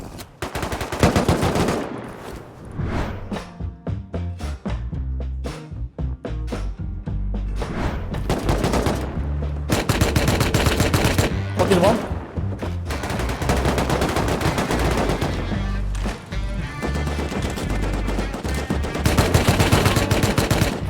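Rapid bursts of automatic gunfire during a raid in the Rust video game, loud and close, with dense rattling volleys broken by brief pauses and heavy thuds, continuing for about twenty seconds without speech.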